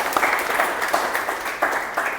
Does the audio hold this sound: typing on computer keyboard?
no